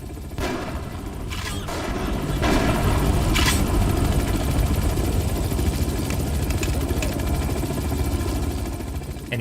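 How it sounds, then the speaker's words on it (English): Loud helicopter rotor noise from the video game Manhunt 2 churns throughout, joined by bursts of gunfire early on, with the steady drone staying close and dominant. "he's deafened by the sound of the helicopter"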